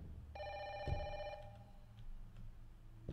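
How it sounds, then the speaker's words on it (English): Telephone ringing inside a horror video game, one clear trilling ring burst near the start, fairly quiet, followed by low background thuds and ambience. "I hear a phone"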